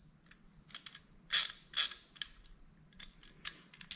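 A ratcheting tap clicks as it is turned, a close series of short metallic ratchet clicks and creaks in uneven bursts, with no voices.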